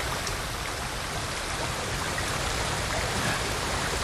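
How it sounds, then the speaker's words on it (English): A waterfall in the video game Ghost of Tsushima gives off a dense, even hiss of falling water, steady and fairly loud throughout, with no speech. "Can I run behind the waterfall?"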